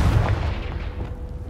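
Blasting-curse explosion from the Hogwarts Legacy video game, a deep booming burst with a rumbling low tail that fades over about a second.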